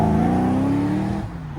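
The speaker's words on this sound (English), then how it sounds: "we didn't miss the V8 in that MGB, and that definitely sounds quick" A V8-powered MGB accelerates hard away, its loud, close engine note rising steadily before dropping off as it pulls into the distance.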